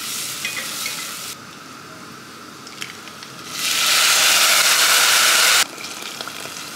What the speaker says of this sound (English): So I'm just heating some oil and frying off some garlic.